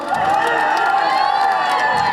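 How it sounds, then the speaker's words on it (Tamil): A crowd at a Tamil comedy stage talk cheers and whoops in a steady, loud din with shouting voices layered over it, and no clear claps stand out. "இப்போ ஆண்கள் எல்லாம் எனக்கு கைத்தட்டுங்க பார்ப்போம்"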